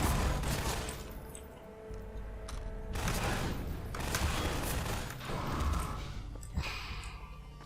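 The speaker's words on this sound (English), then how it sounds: "Okay, so we're now going to use the turrets." Turrets firing in the game GravityGunVilleTwo, a rolling series of loud, rapid bursts and booming impacts in irregular waves, close and dense, without any talking.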